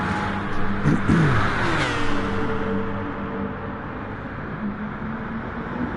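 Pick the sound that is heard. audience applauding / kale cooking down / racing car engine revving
racing car engine revving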